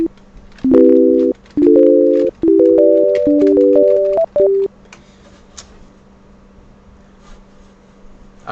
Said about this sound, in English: now what you're hearing is a sine wave or a sinusoidal wave.